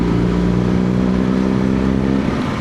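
A Suzuki Hayabusa motorcycle on a night road, its engine a loud, steady harmonic drone that shifts and thins near the end as it goes by.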